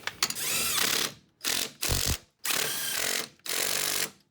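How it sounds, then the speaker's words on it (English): A 3/8 cordless ratchet cinching down ball joint bolts on a 2001-2004 Dodge Dakota, heard as five close, buzzing bursts of the motor, each lasting under a second and separated by short pauses. "just cinch them down with a 3/8 cordless"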